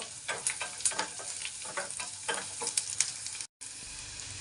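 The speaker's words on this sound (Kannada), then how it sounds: "ನಾನೀಗ ಬರೀ ಬೆಳ್ಳುಳ್ಳಿ ಹಾಕೋತಾ ಇದ್ದೀನಿ. ಇದೊಂದು ಸ್ವಲ್ಪ ಫ್ರೈ ಆಗಬೇಕು." Garlic fries in a pan for butter chicken, giving a steady close sizzle with frequent light clicks and scrapes from stirring and a brief break near the end.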